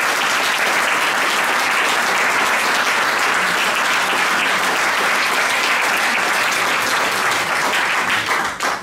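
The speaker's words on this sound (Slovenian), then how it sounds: "zato še enkrat bučen aplavz" A large audience gives loud, sustained applause at a 40th-anniversary ceremony of the regional crafts and business chamber in Nova Gorica. The dense clapping holds at full strength for about nine seconds before tapering slightly at the end.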